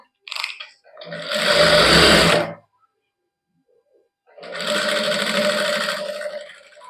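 A sewing machine stitches lace onto the neckline of a matching suit, running in two steady bursts of rapid whirring stitches separated by a silent pause, with a short tap at the start.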